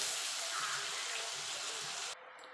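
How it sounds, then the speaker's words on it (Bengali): Water pours steadily into a mixer grinder jar to rinse it, a close, even gush that stops abruptly near the end. "আমি মিক্সির জারটা ধুয়ে জল দিয়ে দিয়েছি"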